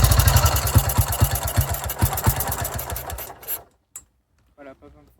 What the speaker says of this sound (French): Et vous remettez un seul coup de kick, ça part.